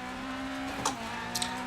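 An F2 kit rally car engine in the rally video game EA WRC holds a steady droning note on loose gravel, close and loud, with brief tire scrapes and no talk.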